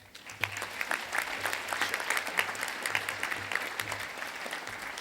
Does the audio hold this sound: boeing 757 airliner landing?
no